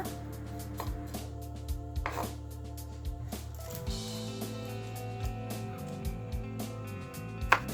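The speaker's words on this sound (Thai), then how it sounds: "หั่นทุกอย่างเป็นชิ้นพอหยาบค่ะ" Knife chopping vegetables on a board, a steady series of sharp taps at moderate volume, with a low steady hum underneath.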